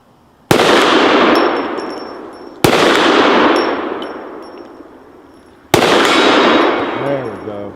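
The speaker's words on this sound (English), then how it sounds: "let's just go back over there and take a couple shots at the ram again" Three loud handgun shots firing 300-grain bullets at steel targets outdoors, each a sharp crack followed by a long rolling echo and a ringing metallic clang from the struck steel.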